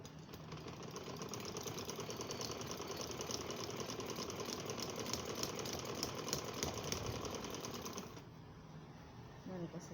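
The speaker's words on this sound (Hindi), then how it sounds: "अभी तो मैं सिलाई कर रही हूँ।" A sewing machine stitches a girl's dress, running in a steady mechanical whir for about eight seconds before stopping, with a voice over the machine.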